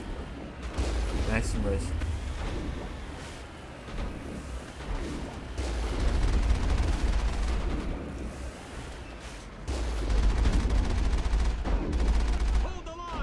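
Gunfire in the video game Mass Effect, sustained rattling bursts and booms in a dense battle din, with a voice talking briefly over it.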